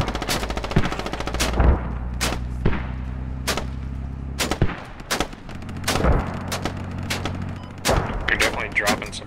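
Gunfire in a large-scale Squad battle, with sharp, loud shots and bursts landing in clusters across the moment, some booming like heavy fire, over a constant low engine-like drone and with occasional voices.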